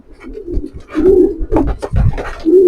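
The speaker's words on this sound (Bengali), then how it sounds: "লফটের যে কবুতর গুলো আছে এগুলো আজকে সব ছেড়ে দিব একসাথে" Domestic pigeons in a loft coo repeatedly at close range, their low throaty calls rising and falling over a few seconds with soft wing and shuffling noises between them.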